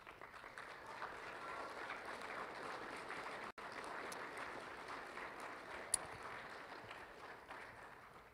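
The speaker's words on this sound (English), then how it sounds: "They also need a round of applause tonight." An audience applauds during a high school graduation ceremony, a faint but continuous wash of clapping heard from a distance for around eight seconds, with a brief dropout and one sharp click partway through.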